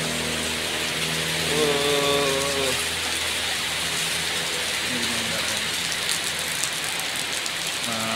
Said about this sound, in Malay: Hujan guys. Pokoknya hujan guys.